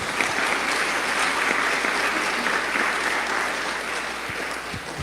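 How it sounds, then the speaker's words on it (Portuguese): A church congregation applauds after a Bible reading, with full, steady applause from many hands sustained evenly throughout and a few louder individual claps near the end. "Vamos aplaudir a palavra do Senhor"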